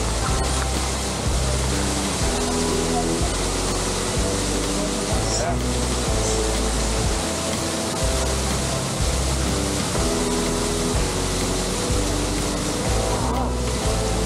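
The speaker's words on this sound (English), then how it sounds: "You will see so many waterfalls on your way to Kedarnath temple" Constant roaring rush of a waterfall on the Kedarnath trek in Uttarakhand fills the whole stretch, loud and dense, with low rumbling and occasional buffeting bumps underneath.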